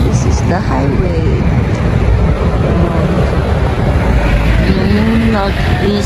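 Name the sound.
highway traffic, cars passing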